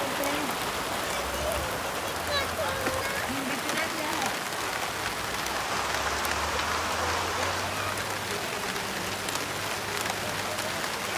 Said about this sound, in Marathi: हा बघा मित्रांनो किती पाऊस पडत आहे.